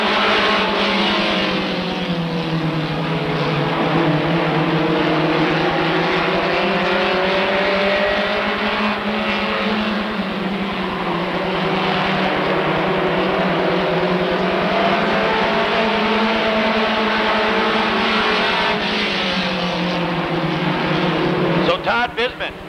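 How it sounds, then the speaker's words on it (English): Stock cars roar around the Rockford Speedway oval after the green flag, a loud continuous engine drone rising and falling through the laps while an announcer calls the race over it. "Green flag, we're racing."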